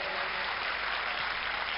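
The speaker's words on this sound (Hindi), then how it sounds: "एक बार जोरदार तालियों से राजू श्रीवास्तव जी को बधाई दें।" Steady, dense applause from a comedy show audience, a continuous wash of clapping with no voices standing out.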